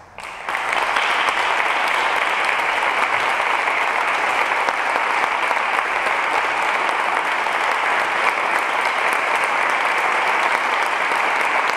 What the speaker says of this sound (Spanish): les damos todos un fuerte aplauso